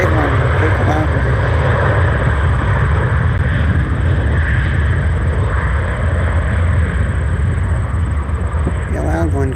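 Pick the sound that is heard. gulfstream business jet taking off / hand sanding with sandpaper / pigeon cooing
gulfstream business jet taking off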